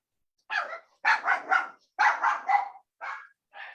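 A dog barks in short bursts, about eight or nine quick barks in clustered groups with gaps of silence between, fairly close and clear with no other sounds.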